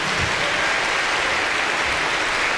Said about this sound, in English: If we give all our student instrumentalists one more round of applause.